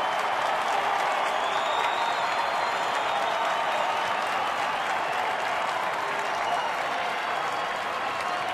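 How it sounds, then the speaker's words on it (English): A baseball stadium crowd at a Detroit Tigers game against Texas applauds and cheers in a dense, continuous roar that holds steady throughout, with no clear talk on top. "Here comes the crowd again."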